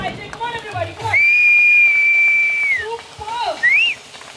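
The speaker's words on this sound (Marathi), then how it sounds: "टाळ्या शिट्ट्या सगळं पाहिजे." A long, piercing whistle rings out from a crowd at a Mahindra corporate product launch, held steady for over a second, followed by shorter rising whistles amid cheering noise.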